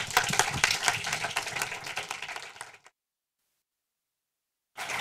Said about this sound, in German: Dankeschön für den Applaus